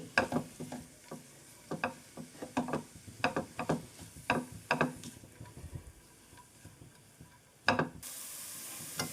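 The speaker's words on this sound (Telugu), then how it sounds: "ఇలా లో ఫ్లేమ్లోనే ఫ్రై చేసేసుకోండి" Grated sweet pumpkin frying gently in a pan on a low flame, with sporadic soft crackles and clicks of stirring rather than a loud sizzle, fairly quiet and intermittent, with no voices.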